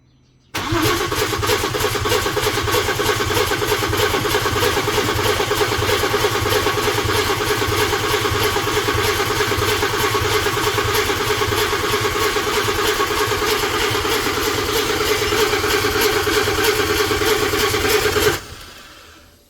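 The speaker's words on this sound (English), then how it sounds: "We're going to try and turn it over, see if it at least stumbles." An Audi engine cranks continuously on the starter, trying to fire after sitting with old fuel, a steady loud mechanical churning that runs nearly twenty seconds without catching, with no talk over it.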